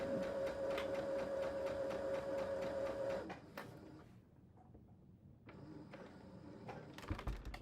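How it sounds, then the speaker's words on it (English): A sewing machine runs a straight stitch along a French seam, a steady, close mechanical whirr with a faint tone, which stops partway through and gives way to quiet handling clicks. "I'm just going to sew a straight stitch"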